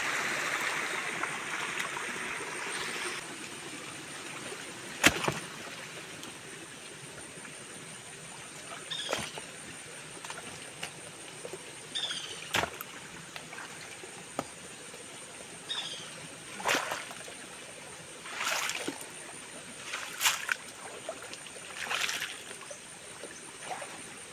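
Steady rushing water flows continuously along an irrigation channel toward a house, with occasional sharp clicks and knocks rising above the even wash.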